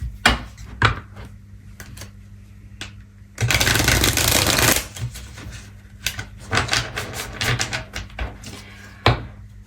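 A deck of oracle cards shuffled by hand, with a dense riffling burst in the middle surrounded by scattered soft taps and flicks of cards, close and clear over a low background hum.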